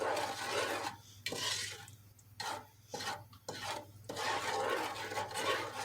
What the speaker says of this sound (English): stir frequently until everything's dissolved